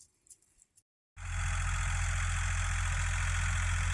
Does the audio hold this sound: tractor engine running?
yes